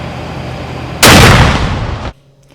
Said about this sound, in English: Cadets fired the cannon at the exact times of the attacks and collapse of the Twin Towers